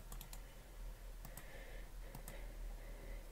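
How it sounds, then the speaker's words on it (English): Someone types on a computer keyboard during a live coloring and chat session, producing faint clusters of light key clicks in short bursts over a steady background hum. "Can you see me typing there?"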